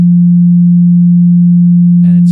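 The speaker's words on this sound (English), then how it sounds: "So here's just a simple sine wave oscillator." A simple sine wave oscillator tone, loud and perfectly steady, holding one low pitch for about two seconds before a brief burst of speech cuts in at the end.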